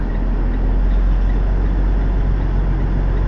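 A noisy truck produces a loud, continuous low engine rumble close by, a heavy steady drone with no pauses.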